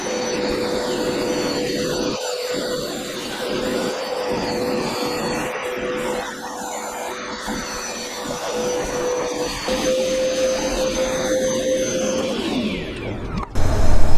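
A Hoover Power Scrub Elite pet steam cleaner works over a filthy carpet, its motor a loud, steady whine and rush with a sustained tone that rises near the end as the machine shifts.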